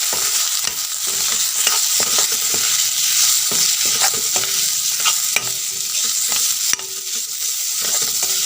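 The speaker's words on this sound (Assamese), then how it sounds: "এতিয়া মই পুনৰ এইখিনি লৰাই দিম ভালদৰে।" Potatoes fry in a pan for a fish curry with waterleaf as a spoon stirs them, giving a loud steady sizzle with repeated scraping strokes and a few sharper knocks, close and with no voices.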